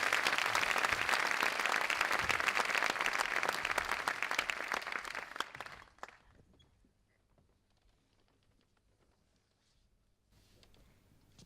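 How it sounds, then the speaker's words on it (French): Loud, dense applause from a large audience at an awards ceremony carries on for several seconds, then abruptly thins out into near quiet. "Applaudissements, top!"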